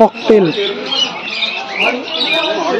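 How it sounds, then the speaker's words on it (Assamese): A cockatiel at a zoo gives shrill, raspy squawks close by, repeated over the clip, with a person's voice audible beneath the calls. "ককটেল কি বা এইটো ককটেল হালধীয়া চৰাই"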